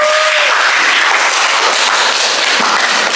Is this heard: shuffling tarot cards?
no